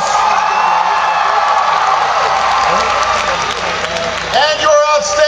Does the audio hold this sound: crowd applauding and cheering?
yes